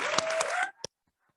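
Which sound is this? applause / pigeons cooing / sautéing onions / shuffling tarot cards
applause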